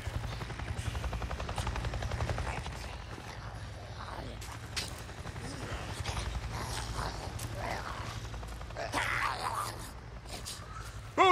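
Helicopter in the Days Gone video game, a steady low rotor thrum sustained throughout, with rustling movement and small mechanical clicks on top and no speech.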